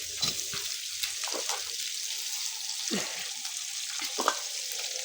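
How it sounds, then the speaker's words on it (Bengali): Chopped onion sizzles and fries in a hot pan for a pumpkin curry, a steady hiss with occasional stirring clatters and scrapes close by. "এখানে এখনই দিয়ে দেব পেঁয়াজ কুচি"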